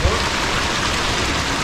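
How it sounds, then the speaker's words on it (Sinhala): Steady rain pours down on the Sri Pada pilgrimage trail in the off season, a dense continuous hiss close by with no break. "මට ආශිර්වාදයක් විදිහට වහින වැස්ස අදත් වහිනවා හැමදාම වගේ"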